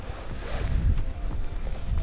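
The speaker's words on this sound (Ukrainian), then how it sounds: "вітер шалений, трошки заважав" Strong wind buffets the microphone in a steady low rumble while pike fishing, with gusts swelling and easing and faint water sounds underneath.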